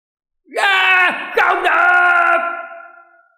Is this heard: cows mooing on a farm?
no